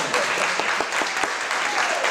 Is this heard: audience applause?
yes